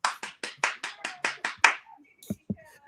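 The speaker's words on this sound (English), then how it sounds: "You supposed to hear them right when they start clapping if I say something good" A studio audience claps in a short burst of about eight sharp, evenly spaced claps, close and loud, followed by a few scattered taps and a brief bit of background voice.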